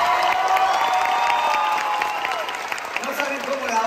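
Theatre audience applauding loudly and steadily at a stage musical premiere, a dense wash of clapping with cheering mixed in and a voice talking over it.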